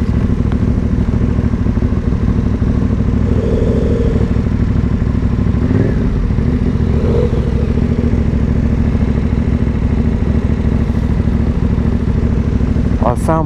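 Aprilia Dorsoduro 1200 motorcycle riding through the Lake District, its engine a steady loud drone with constant rumble and wind throughout, with a faint voice now and then.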